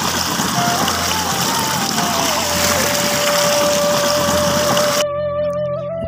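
Leafy greens (mullikeerai) are rinsed in water in a village kitchen, a loud continuous gushing and splashing wash with a thin whine running through it, then cut off abruptly near the end.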